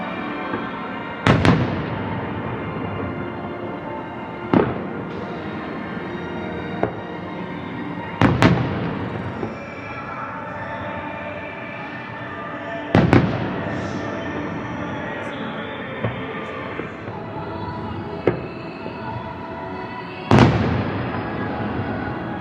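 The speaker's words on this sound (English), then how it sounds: "What did you think of the fireworks view?" A nighttime fireworks display at Disney's Contemporary Resort, heard as repeated sharp booming bursts every few seconds over a steady crackling, rumbling background.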